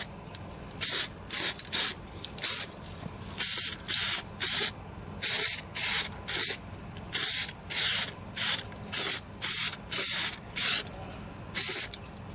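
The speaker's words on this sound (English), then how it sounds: "So that is the first layer of primer." Primer sprays onto a part from a rusty Kubota B2100 compact tractor in about twenty short, even hissing bursts. Each burst is close and crisp, with brief pauses between them and no talking.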